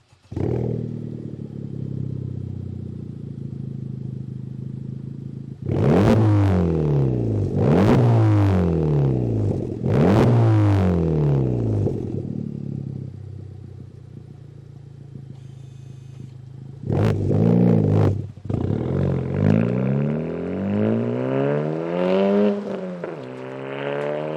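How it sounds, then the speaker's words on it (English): A 2023 Honda Civic Type R FL5 with a Tomei titanium Type D exhaust idles, then revs sharply several times, the exhaust note rising and falling loudly; later it pulls hard, climbing through gears with a raspy tone. "I cannot go without showing you guys the sound of this Tomei"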